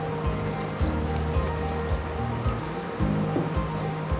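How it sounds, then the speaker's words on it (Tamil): Water poured from a tumbler into a mixer jar while making amla juice, a steady splashing trickle with rhythmic gurgling pulses, close and fairly quiet, no talk. "ஒரு டம்ளர் தண்ணி ஆட் பண்ணிக்கோங்க."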